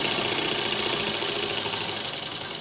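A sewing machine stitches around a shirt collar, running continuously with a fast, even mechanical whir and rapid needle chatter, close and alone.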